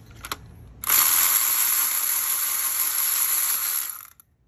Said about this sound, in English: I know you probably don't have an electric ratchet, but I'm going to use mine.